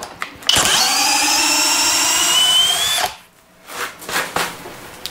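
A hammer drill, one of a Flex Turbo FX1271T and DeWalt FlexVolt DCD999 pair, spins up and drills loudly and steadily for about two and a half seconds, then stops, followed by a few quieter short bursts and clunks.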